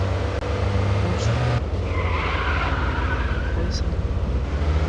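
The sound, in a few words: car drifting with tire skids in video game Madout2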